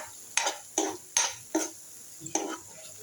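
Potato and tomato curry being stirred and sautéed in a pan, with five distinct spoon scrapes against the metal spaced evenly apart, near and moderately loud, with no talking.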